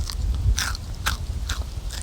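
Crunchy bites into fish fried in a spicy chip coating, a few loud, close crackling crunches spaced about half a second apart over low background rumble.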